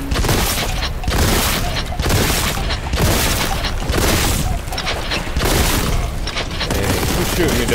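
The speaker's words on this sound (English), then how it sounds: "Shooting me down the hallway." Dense, continuous enemy fire in the Warhammer 40,000: Boltgun shooter, with rapid overlapping shots and booming impacts filling a hallway at steady high volume for the full stretch.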